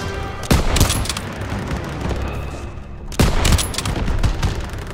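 Heavy Call of Duty WW2 battlefield gunfire, with a sustained roar of rifle and machine-gun shots punctuated by two loud sharp blasts, dense and close with no gaps.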